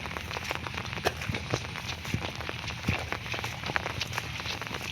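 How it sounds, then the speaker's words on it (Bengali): Heavy rain pours outdoors in a steady, dense patter with scattered sharper drops hitting nearby surfaces, loud and continuous throughout. "প্রচণ্ড বৃষ্টি পড়ছে"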